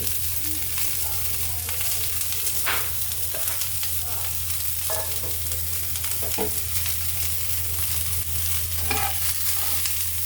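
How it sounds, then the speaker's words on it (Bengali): Onion and chili frying in a pan with a little oil, a steady loud sizzle running throughout under a low hum, with occasional scraping stirs close by. "সামান্য পেঁয়াজ মরিচ একসাথে দিয়ে দিচ্ছি"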